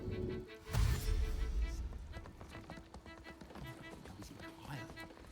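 Sheep hooves in Baldur's Gate 3 patter in a quick, steady clip-clop of small steps over game ambience, with a voice heard at moments.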